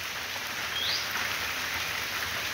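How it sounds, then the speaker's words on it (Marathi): Steady rain falls outdoors at a threshing yard where harvested soybeans lie covered, an even, close hiss of drops on surfaces with a brief faint chirp partway through. "पण आज काय पाऊस काय उघडत नाही आहे."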